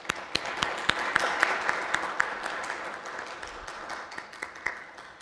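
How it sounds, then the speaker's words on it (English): A crowd applauds steadily for several seconds, dense clapping with a few sharper individual claps standing out, fairly close and without any talking. "if we could please give her a big round of applause"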